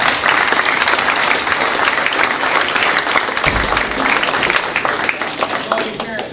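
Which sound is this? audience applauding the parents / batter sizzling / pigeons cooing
audience applauding the parents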